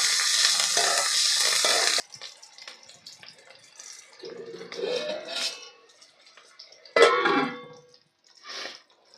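Cauliflower frying in a pan while being stirred: a loud burst of sizzling at the start, then scraping and stirring noises with intermittent sizzles and clatter.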